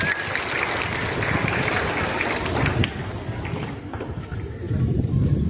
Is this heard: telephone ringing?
no